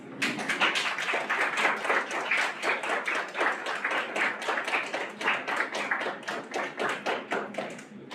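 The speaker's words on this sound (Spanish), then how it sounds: "Fuerte el aplauso, por favor, nuevamente" An audience applauds after a law lecture at a university oratory event, with dense, rhythmic clapping that swells and eases in waves for several seconds, nearby and fairly loud.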